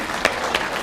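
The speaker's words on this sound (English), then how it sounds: "let's give them a round of applause" Graduation ceremony audience applauds the graduates' parents and guardians, a brief stretch of steady, fairly soft clapping from a large crowd.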